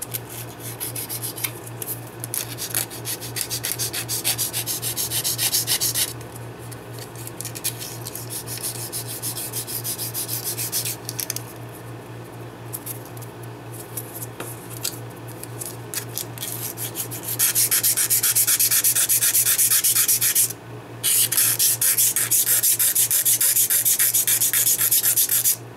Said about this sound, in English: now I'm just going to take my sanding stick